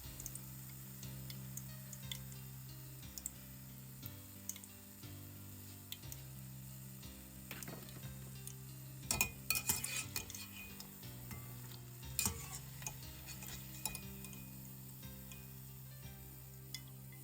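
Ghanaian drop doughnuts sizzle in hot oil, a faint continuous frying hiss with a low hum underneath, broken by scattered clinks and scrapes of a utensil lifting the golden pieces out, with no talking.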